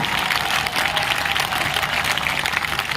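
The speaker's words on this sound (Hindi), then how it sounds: "जोर से ताली बजाइए" A crowd at a political rally in Devtalab claps continuously, a dense and steady burst of applause lasting a few seconds.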